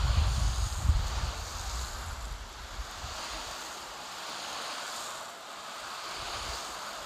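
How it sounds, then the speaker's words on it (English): Steady broadband water spray hissing over a car's painted panels while soaking them ahead of a protectant and sealant comparison, a continuous rushing wash with a low rumble at the start and no talking. "Let's go and give it another good soaking."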